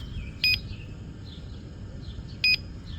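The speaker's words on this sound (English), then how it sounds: "It's just beeping for no reason." A Begode ET Max electric unicycle beeps, giving two short electronic beeps about two seconds apart over a quiet, low background rumble, with no talking.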